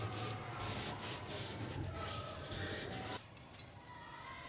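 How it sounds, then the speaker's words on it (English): Steady rhythmic rubbing of a cloth polishing a Yamaha P22 school piano, close and continuous strokes that ease off slightly near the end, with no speech. "we're just gonna keep polishing that"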